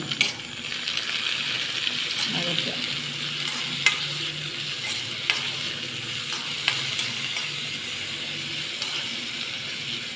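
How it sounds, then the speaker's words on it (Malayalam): Tomatoes fry in a pan for tomato chutney, giving a steady close sizzle with occasional metallic clinks and scrapes from stirring, and no voices. "തക്കാളി ഒന്ന് ചെറുതായിട്ടൊന്ന് വെന്തുടയണം ഒന്ന് മൂക്കണം"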